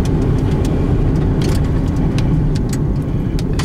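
A car rolls over freshly oiled loose gravel during a brake test after a front disc brake replacement, with a steady close road and engine rumble and scattered crunches and clicks of stones.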